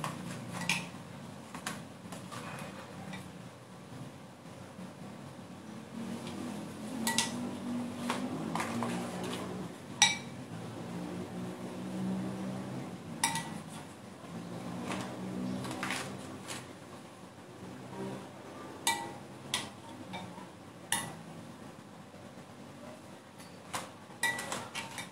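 A spoon scrapes and clinks against a bowl and pan while tuna filling goes into a lightly browned gluten-free pie crust, with scattered taps and knocks over a low kitchen background.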